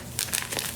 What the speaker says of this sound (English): Do you hear that delicious crunch?